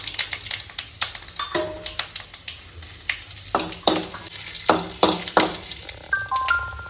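Dried red chillies hit hot ghee with popping mustard seeds, giving a steady close sizzle broken by sharp crackles and pops, with a spoon scraping and stirring now and then.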